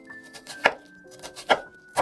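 Knife chopping through an onion on a cutting board: three distinct, close, sharp chops spaced roughly evenly, with quieter knife and board scraping in between and a faint steady hum underneath.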